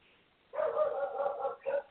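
Pet dogs bark in the background, a short burst of yapping followed by one more bark, fairly faint and heard alone.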